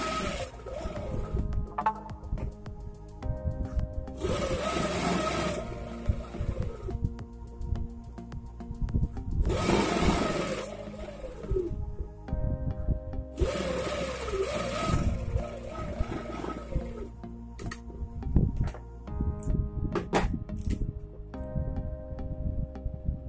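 A sewing machine stitches a suit, or kameez, in three bursts of rapid, whirring mechanical chatter separated by quieter pauses full of fabric handling and small clicks, close and fairly loud.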